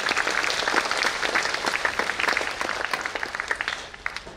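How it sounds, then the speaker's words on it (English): A school audience applauds steadily throughout, dense overlapping claps at a fairly loud, even level that tapers slightly toward the end. "Give him a round of applause, please."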